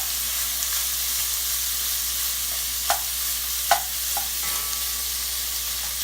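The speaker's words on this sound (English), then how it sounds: "It's going to start browning up the meat now." Ham browns in a hot pan for arroz con gandules, a steady loud sizzle and hiss with a couple of brief stirring scrapes.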